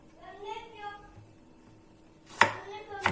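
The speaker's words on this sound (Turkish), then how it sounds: "Şu iri olanlarını da tekrar ortadan bölüyorum domateslerimi." A knife cuts through tomatoes on a board, halving the larger pieces, with two sharp close chops near the end after a stretch of quiet talking.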